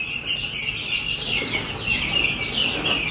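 Chicks in a box chirp in a continuous cluster of bright, high peeps, with soft rustling and shuffling underneath across the short stretch.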